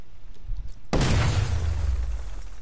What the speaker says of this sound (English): Get close and apply the explosive directly to destroy that wall.